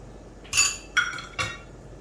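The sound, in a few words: turning frying rose cookies over with a chopstick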